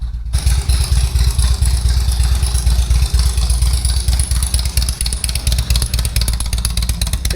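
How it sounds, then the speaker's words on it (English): A 2002 Harley-Davidson Road King Screaming Eagle Special Edition motorcycle runs nearby. Its engine sends out a loud, steady, pulsing low rumble with a clattery texture, and no one speaks over it. "Let me introduce you to my Harley."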